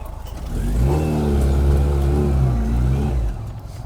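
A 1995 Rover Mini SPi, race tuned, revs up as it pulls away, the engine note climbing loudly and close for a few seconds before easing off.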